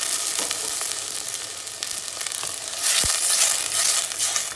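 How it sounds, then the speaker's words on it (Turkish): Tomatoes added to tomato paste frying in a pot sizzle loudly and steadily close by, with scraping stirs and a brief thump, the hiss swelling stronger toward the end. "Domateslerini ilave ediyoruz. Domatesleri de karıştırdık."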